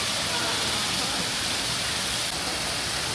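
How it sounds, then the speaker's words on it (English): An indoor decorative waterfall in a Bass Pro Shop store, heard as a steady, loud broadband rush of falling water with no breaks. "I love this waterfall piece here."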